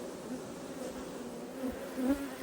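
A steady, dense buzzing hum of honeybees fanning at a hive, continuous and fairly close, with slight swells in loudness and no voices.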